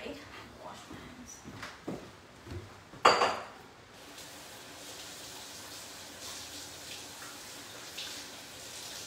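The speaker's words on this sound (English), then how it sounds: "Wash my hands." Hands are washed under a running kitchen tap, with a brief clink and splash followed by a steady, soft flow of water in the background while someone talks.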